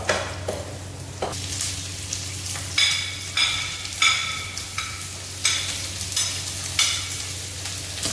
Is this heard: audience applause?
no